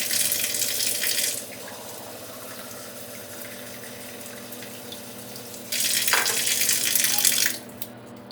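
Manjeera tap water runs and pours into a container during a Sharp water purifier demonstration, two loud hissing bursts of flow with a quieter steady trickle between them, and no talking.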